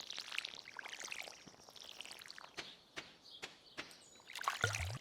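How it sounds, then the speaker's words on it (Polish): Watering can pouring onto crops in Stardew Valley, a steady game-style splashing trickle with several sharp clicks toward the end and light background ambience, no talk. "Podlewamy."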